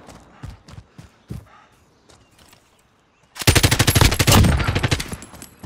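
Rapid automatic gunfire in Call of Duty: Modern Warfare Warzone, a loud sustained burst after a few scattered shots and footsteps, heard alone.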